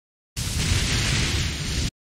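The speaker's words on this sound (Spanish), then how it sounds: "petardos" One sustained, crackling burst of firecrackers in Sekiro: Shadows Die Twice during the Guardian Ape fight, loud and close, starting and stopping abruptly.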